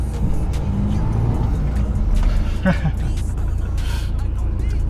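A 4x4 with traction control switched off revs hard while stuck in a Cape York bog, a loud, close, steady engine drone with faint squeals and splashes and people talking over it.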